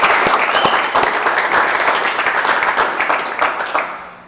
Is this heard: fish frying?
no